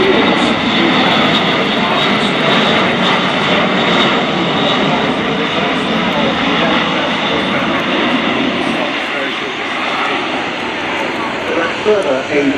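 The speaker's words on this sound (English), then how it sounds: "the very impressive propellers driven by the TP400 engines" An Airbus A400M Atlas military transport with four TP400 turboprop engines flies by at the Royal International Air Tattoo airshow, a loud sustained roaring drone with a broad propeller rumble, while a commentator talks over it.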